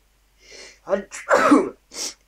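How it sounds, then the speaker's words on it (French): A single close, loud human sneeze, preceded by a short sharp inhale and ending in a bursting exhale, with quiet room tone around it. "Excusez-moi, mais je vais éternuer."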